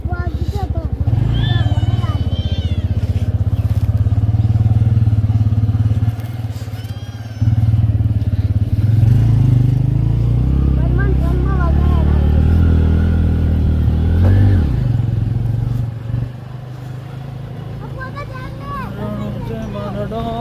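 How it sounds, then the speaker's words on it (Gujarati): Motorcycle engine droning steadily and close while riding, with people talking over it throughout. "હા ઘણા દાડે હવે બાઇક ચલાવું."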